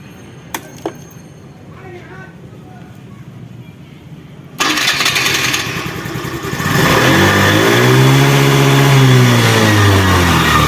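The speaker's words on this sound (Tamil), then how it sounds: "இப்போ வண்டியை எத்தனை முறை ஆஃப் பண்ணி நம்ம ஸ்டார்ட் பண்ணால் கூட கரெக்டாக நமக்கு க்ளீனாக ஸ்டார்ட் ஆகுது" A vehicle engine cranks and catches cleanly, then idles and revs up into a loud, sustained drone close by, following a few faint clicks and some quiet background talk.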